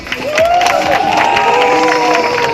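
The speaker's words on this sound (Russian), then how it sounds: "Аплодируйте." Crowd at a holiday fair selling pigeons, rabbits and decorative animals applauds and cheers, a loud, continuous mix of clapping, shouts and voices filling the space.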